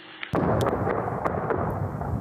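A sudden heavy blast of an artillery shell exploding in the war-damaged village of Pisky, Ukraine, erupts from near silence, followed by a sustained rumbling roar with a few sharp cracks echoing in the distance.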